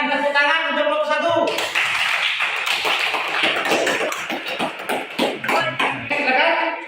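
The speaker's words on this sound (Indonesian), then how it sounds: "silakan tepuk tangan untuk kelompok 1" Classroom students clap for a presenting group, a burst of scattered, uneven hand claps that starts after a voice and fades out as talking returns near the end.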